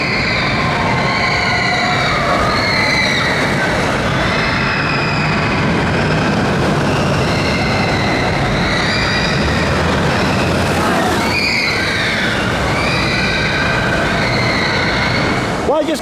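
Back-row ride on the Supersonic Odyssey roller coaster at an indoor theme park, a loud continuous rumble of wheels on track with screeching, squealing tones sweeping up and down and a shifting roar near the end.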